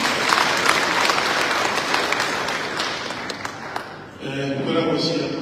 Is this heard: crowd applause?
yes